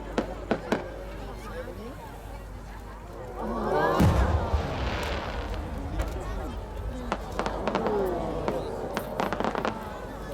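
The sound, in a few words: fireworks exploding, rising shell with small flower bursts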